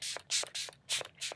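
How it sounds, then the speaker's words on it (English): Bursts of Danessa Myricks matte setting spray misted onto a face, several quick hissing puffs in a steady rhythm, close and fairly soft with no talking. "we're going in with a brand new matte setting spray from Danessa Myricks"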